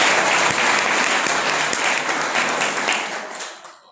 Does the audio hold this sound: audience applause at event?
yes